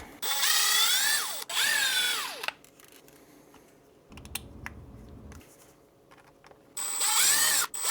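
Cordless power driver backing screws out of ROG1 earphone housings, with two whining bursts that rise and fall in pitch, then quiet handling clicks and a final short spin, all close up.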